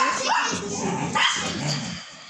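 Pet dogs bark and yip repeatedly at close range inside a home, in sharp, uneven bursts, with a human voice heard faintly between the barks.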